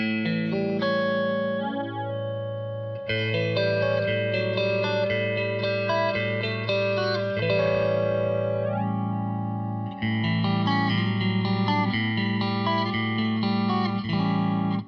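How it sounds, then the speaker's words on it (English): A Kemper Profiler flanger effect with the filter matrix switched on colours sustained electric guitar chords, sweeping and swirling through the notes in two long phrases with no talking. "So these are the basic flanging tones. If you turn on the filter matrix, you get this one."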